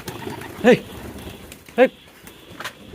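Pigeons being shut indoors as rain begins give two short, distinct coos close by, with a fainter third call near the end over low background noise.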